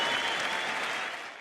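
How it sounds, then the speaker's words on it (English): Radio broadcast of cricket crowd applause at the Gabba, Brisbane, as Adam Gilchrist leaves the ground after his century against New Zealand, a sustained even wash of clapping that fades slightly at the end. "Australia 5 for 320 as he leaves the ground to raucous applause."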